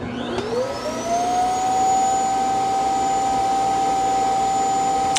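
A motor whirs up in pitch, then settles into a loud, steady high-pitched whine as a Eufy C10 robot vacuum's dock sucks out dust.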